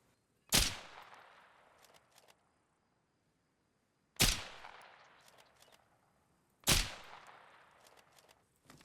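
M40A5 sniper rifle fired in Arma Reforger: three single sharp cracks spaced about three and a half seconds apart, each trailing into a long fading echo, with faint clicks of the bolt between shots.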